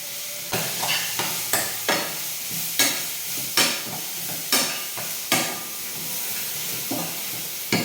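A handful of curry leaves crackles in hot oil, a loud sputtering sizzle with regular sharp bursts roughly every second as the pan is stirred, up close with no speech.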